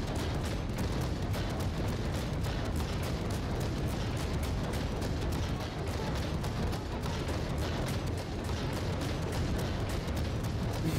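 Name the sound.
Colbert cruiser guns firing rapidly in video game World of Warships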